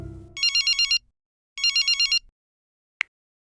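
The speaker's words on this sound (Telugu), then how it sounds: "అర్జున్కు ఫోన్ చేస్తాను." Two bursts of a warbling electronic telephone ringtone, each about half a second long, sound close and loud, and a single sharp click follows; a little low rumble comes before the first ring, and no one speaks.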